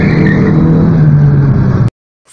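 A loud, close rear-wheel-drive Ford Maverick V8 engine roars steadily at high revs, then cuts off abruptly into silence.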